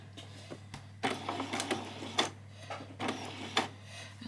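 Sewing machine running a short back stitch while assembling a bodice, a close rapid mechanical whirring in several brief bursts with pauses between, over a steady low motor hum.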